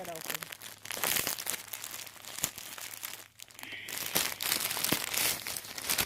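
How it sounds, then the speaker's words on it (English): A small pink plastic bag of braiding hair is torn open close by, giving steady crinkling and rustling with some sharp tearing snaps over several seconds. "Let me tear it open."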